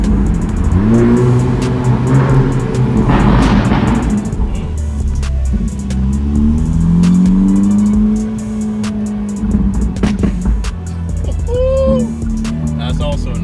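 A Hyundai Elantra N fitted with a new aftermarket exhaust revs loudly and close inside a tunnel. Engine pitch rises and falls, and crackling pops come off throttle.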